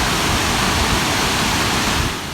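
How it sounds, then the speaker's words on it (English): Grand Falls, a waterfall fed by a small creek in Missouri along Route 66, roars in a loud, steady broadband rush that holds unbroken and drops off slightly at the very end. "This is Grand Falls"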